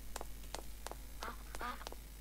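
Duck quacks in a Spanish-language playthrough of the game Night of the Dead, a series of about six short, evenly spaced calls of moderate loudness over steady background hum, with no talking.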